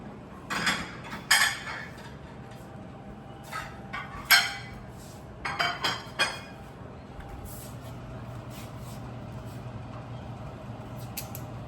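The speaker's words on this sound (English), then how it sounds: "We get a plate and plate our steaks." Steaks are plated in a home kitchen, with a scatter of close ceramic clatters and cutlery clinks in brief clusters, then fading to a steady low background hum.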